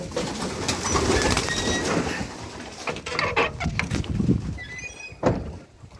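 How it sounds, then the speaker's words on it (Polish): Pigeons in a loft give soft cooing and fluttery calls, with wingbeats and scuffling nearby, set against shuffling movement and a low murmur of background noise. "no tutaj są takie gołąbki fajne"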